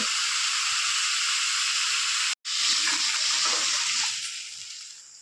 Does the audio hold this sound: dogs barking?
no